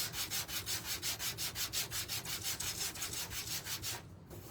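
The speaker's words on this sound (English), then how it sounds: "we're going to sand our house" Sandpaper rubbed by hand over a small wooden craft house, a steady rhythmic back-and-forth scraping of about four strokes per second, close and fairly loud, stopping just before the end.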